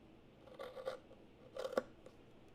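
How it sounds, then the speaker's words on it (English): Two short bursts of quiet snipping from scissors cutting a straight line through craft material, each a quick run of close crisp cuts, separated by a pause. "the next step is to cut that straight line up to where you ended your cut line"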